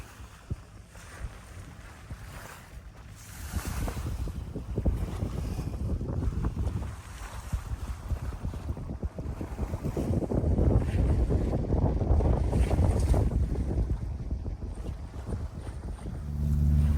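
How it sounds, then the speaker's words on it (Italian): Sea waves wash and slap against a Jeanneau sailboat's hull in rolling surges, with wind buffeting the microphone throughout and no talking. "sentite come il mare infrange sulla barca"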